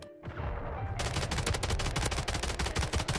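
Rapid double barrel SMG fire in Modern Warfare III, a loud, dense stream of shots that starts after a brief pause and keeps hammering without a break.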